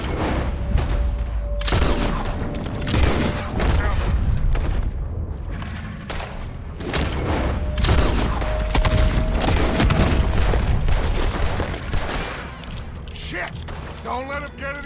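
Heavy gunfire in a Red Dead Redemption 2 shootout, loud rifle and revolver shots cracking in irregular bursts and volleys with booming echoes, some mechanical clatter, and shouted voices mixed in between blasts.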